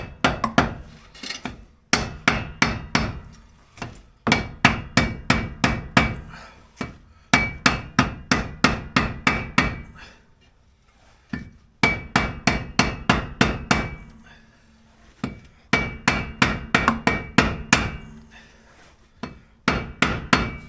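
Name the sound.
lead hammer striking metal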